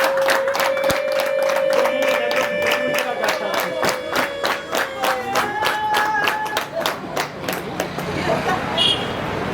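Rhythmic clapping from guests welcoming a newlywed couple at a civil wedding ceremony, steady and evenly spaced over a sustained tone that may be music, fairly loud and then loosening toward the end.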